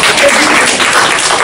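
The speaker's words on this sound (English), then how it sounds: "Give yourself a round of applause" Workshop audience applauding after being told to give themselves a round of applause, a dense, steady wash of clapping across the whole stretch with a voice partly mixed in.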